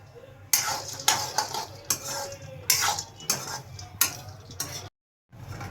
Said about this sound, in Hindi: अब हम हमारे काजू रोस्ट करेंगे।